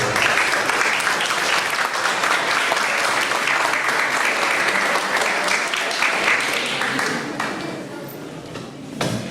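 A lecture audience gives a doctor a strong round of applause, sustained dense clapping lasting several seconds before thinning out and fading near the end.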